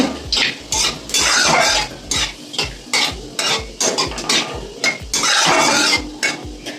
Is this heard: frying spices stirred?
yes